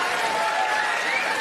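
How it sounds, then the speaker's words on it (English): Loud, dense applause from a stand-up comedy crowd, a continuous even roar of many hands clapping. "Round of applause for pedo teachers"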